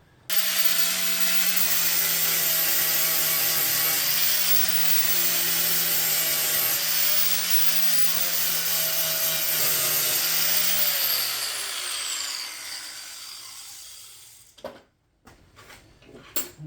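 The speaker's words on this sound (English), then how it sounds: "I've just changed to a flapper wheel so that I can grind down on here" Flap disc grinding on a Jaguar XKR wheel arch, a loud, steady abrasive whine with a droning low hum that runs continuously for about eleven seconds, then spins down and fades, followed by a few faint clunks and knocks.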